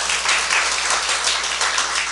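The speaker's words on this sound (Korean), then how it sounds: "박수 한번 칩시다." Church congregation clapping in unison during a worship service, a dense, steady patter of many hands at moderate loudness with no voices on top.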